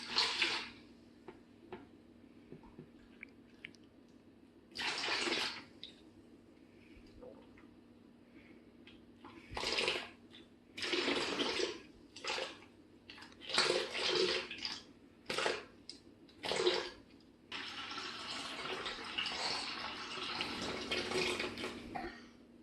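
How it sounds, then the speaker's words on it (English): Water is poured slowly in repeated short splashing bursts while lemonade is made at home, with quiet gaps between pours and a longer continuous trickle near the end. "So here we're going to slowly pour water."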